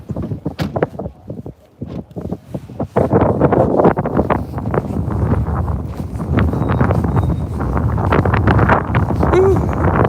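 Breezy outdoor wind buffets the microphone with loud, rumbling gusts that build and stay heavy, after a few footsteps and handling knocks at the start.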